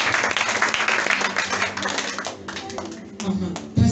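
A church congregation applauding during a worship service, a dense burst of clapping that thins into scattered claps, with voices in the room.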